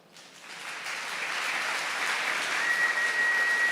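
A church audience breaks into applause, the clapping swelling from a quiet start into a steady, full crowd sound that holds for several seconds.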